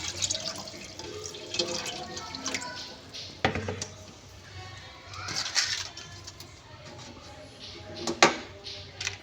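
Water poured from a jug into a cooking pot sitting on a stove, a splashing trickle with scattered clinks and drips at moderate loudness, a voice talking faintly in the background.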